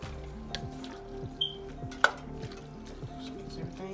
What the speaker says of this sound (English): Let's add our noodles in and see if we can add it in without making a mess. Give that a stir.